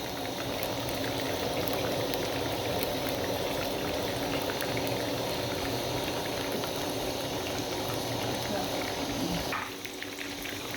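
Masala-coated Lahori-style fish fries in a pan of hot oil, with a continuous bubbling sizzle that holds steady before quieting and thinning out near the end.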